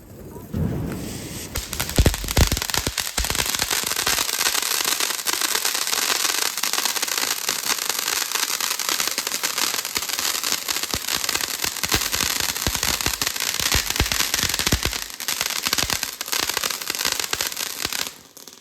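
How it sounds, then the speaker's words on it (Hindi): Firecrackers set off during Diwali celebrations, a dense near-continuous crackle of bangs and pops running loud and close for the whole stretch, with a few louder bursts near the start. "लेकिन हल्का फुल्का हम लोग पटाखा जला सकते हैं।"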